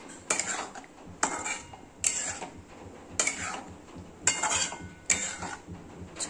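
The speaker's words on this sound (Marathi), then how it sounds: "थोडस हलवून" Butter egg curry masala with fried eggs and a little water is stirred in a pan, a metal utensil clinking and scraping against the pan about six times in a steady, close rhythm.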